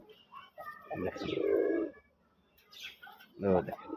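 Two soft, throaty coos of a sky-blue desi golla pigeon close by, the first longer and rolling, the second shorter, with quiet gaps between them.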